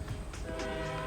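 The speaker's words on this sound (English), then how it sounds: "There's a train somewhere around there going." A train passing somewhere nearby, a faint, brief low rumble with a hint of a horn-like tone in the distance, heard while sitting in a parked Tesla Model 3.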